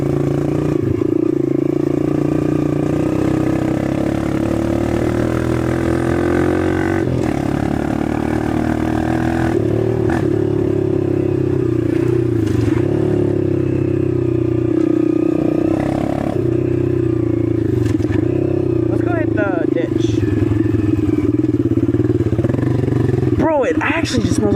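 A dirt bike engine drones and revs close up, its pitch rising and dropping through gear shifts over a continuous loud running note with mechanical clatter, while a rider talks over it.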